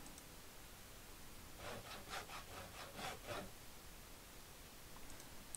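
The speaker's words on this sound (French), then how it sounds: "Alors le monsieur cloue des planches avec sa scie." Wooden planks being sawn in the survival game Project Zomboid: a short run of rapid, rasping saw strokes in the middle, faint and alone against a steady hiss.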